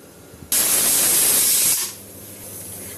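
Pressure cooker on a gas stove cooking potato stew lets out one long, loud steam whistle, a steady rushing hiss that cuts off abruptly and leaves a faint background hum.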